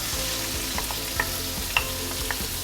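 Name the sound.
marinated minced pork sizzling as it goes into the pan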